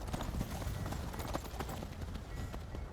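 Horse hooves clip-clop at a brisk, steady riding rhythm in Skyrim, close and continuous for several seconds over soft ambient game background.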